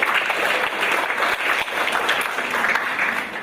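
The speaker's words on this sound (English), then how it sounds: "A clap for him." An audience at a corporate marketing talk claps steadily for a speaker, a brief burst of dense, even applause.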